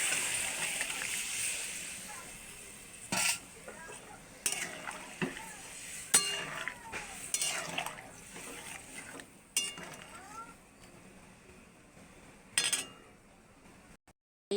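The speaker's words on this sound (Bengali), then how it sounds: "এইবার দিয়ে দিচ্ছি সেদ্ধ করে রাখা সবজিগুলো" Boiled vegetables go into a pan of frying spice paste, followed by a soft sizzle, wet splattering and intermittent scrapes and clinks of a utensil stirring close by.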